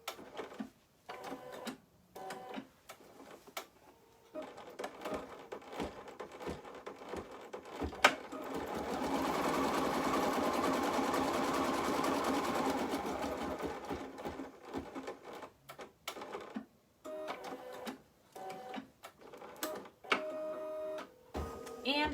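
A home embroidery machine stitches a tack-down line on gray snowflake fabric, running steadily for about six seconds at mid-level, with shorter stitching bursts and handling noises before and after.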